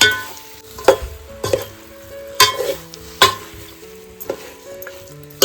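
Chicken curry made with country chicken sizzles in a pan on a wood-fired stove while a spoon stirs it, giving loud scraping strokes about every second over a steady frying hiss, with no voices.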